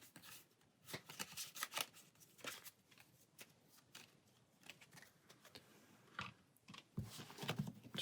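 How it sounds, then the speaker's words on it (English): A deck of Pathfinder Adventure Card Game cards being shuffled by hand, with soft, quiet bursts of riffling and sliding cards in irregular bunches close by. "Shuffle our deck."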